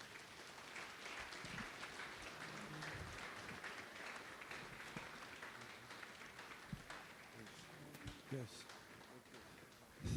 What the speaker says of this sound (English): One more round of applause for Dr. Mike Brewsted.